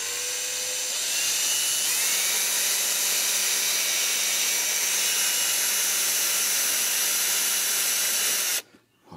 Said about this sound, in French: on prend la première vis et on la visse.